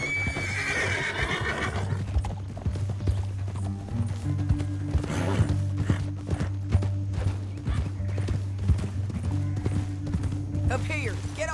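Horse hooves clip-clop steadily on a trail in the western video game Red Dead Redemption 2, with an occasional neigh, heard close and at moderate volume under faint voices.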